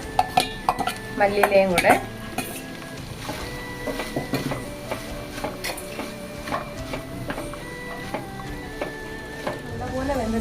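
Onion, tomato and crushed garlic sautéed and stirred in a pan for a Kerala chicken curry, with clinks of a utensil against the pan and a soft sizzle running under a person talking.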